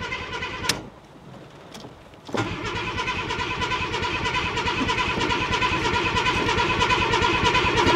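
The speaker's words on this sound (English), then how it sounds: "We're going to fire this up." A Ford Granada Mk2 2.8 Ghia X, left abandoned for years, cranks on its starter: a couple of short bursts, then a long, loud, steady rhythmic churning that never catches, heard close with no talk.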